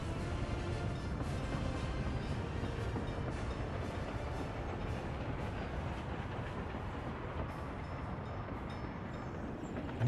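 Trains running on tracks in the city-building game Workers & Resources, a steady rolling rumble with faint clickety-clack that holds at an even level throughout, with no voices.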